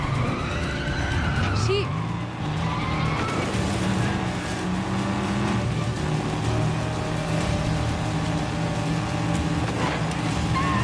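Video game car from The Exit 8 driving with engine drone and skidding tire noise, loud and continuous, under a voice talking over it.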